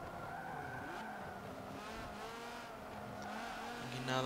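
A race car in Forza Motorsport 7's Sport GT class roars with a droning, revving engine while its tires squeal through a corner. The sound is continuous and close, and it swells louder near the end.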